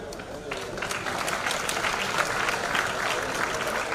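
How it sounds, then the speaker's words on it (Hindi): Loud, sustained applause from a large seated audience at a university convocation ceremony in Jaunpur, welcoming gold medalists, with dense steady clapping throughout and a faint crowd murmur beneath. "हमारे सभी स्वर्ण पदक मेधावी माननीय गुलाबपत जी के साथ तालियों से स्वागत।"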